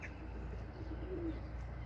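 Soft pigeon coos sound faintly over a low, steady background hum, with no voices.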